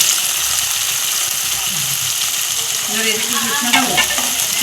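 Catla fish rezala masala sautéing in a pan with whisked yogurt, Kashmiri red chilli and a little water, a loud continuous bubbling sizzle with wet stirring and scraping sounds up close.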